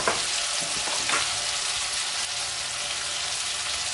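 Onion, garlic and tomato sauté in a pan with salt for a prawn masala, giving a steady, close broadband sizzle with a few stirring scrapes near the start, continuous and without voices.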